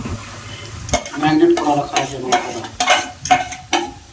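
Meat is stirred and fried in spiced oil in a wok, with loud, close sizzling and repeated scraping strokes of a spatula against the metal, coming in uneven bursts with brief pauses.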